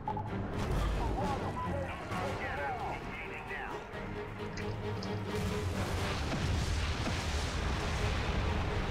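Rocket launcher fire in the video game Prototype: heavy booming blasts and explosions rumble almost continuously through the whole stretch, loud and dense, with people talking over the top.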